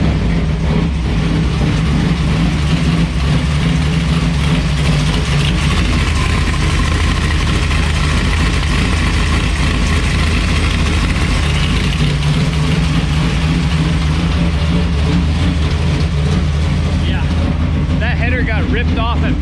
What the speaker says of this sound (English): we're trying to warm up the motor so we can change the oil